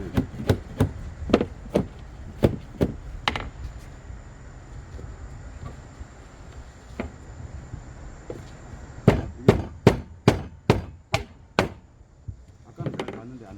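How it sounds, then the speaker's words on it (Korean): A rubber mallet tapping wooden dowel joints into a cedar board for a small solid-wood table, sharp knocks in clusters of rapid taps separated by pauses, close and loud. "고무 망치나 이런 것 들고 톡톡 치면"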